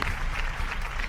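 An audience at a Malayalam TV game show claps together in a short, dense burst of applause that stays even throughout.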